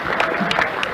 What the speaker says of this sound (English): Give him a round of applause to that.